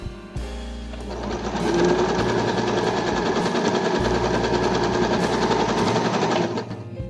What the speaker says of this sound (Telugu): చూడండి ఎలా స్టిచ్ చేస్తున్నానో.